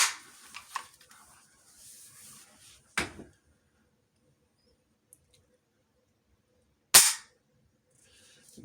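A Zastava M70 pistol trigger is pulled and reset, giving two sharp, isolated mechanical clicks several seconds apart, close and crisp against near silence with faint handling noise early on.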